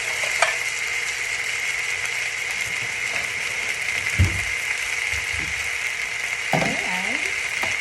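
Black beans for Costa Rican Gallo de Pinto fry in a hot pan, a steady bright sizzle with occasional scrapes and clunks of stirring, close and moderately loud, no talking.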